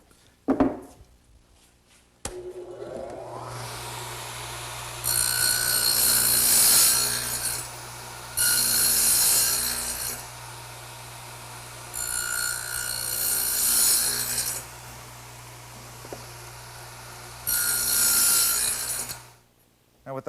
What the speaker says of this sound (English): while I have the dado head set up in the radial arm, I want to make this end piece for my tool storage area